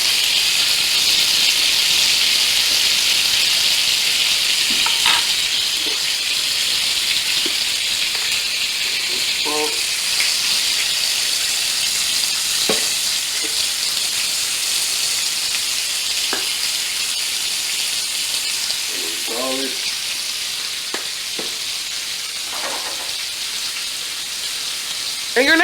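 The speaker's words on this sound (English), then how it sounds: "I wanna add the herbs and the onions." Herbs and onions fry in a pan with a steady, loud sizzle and hiss for the whole stretch, broken by occasional clinks and scrapes of a utensil and brief faint voices in the background.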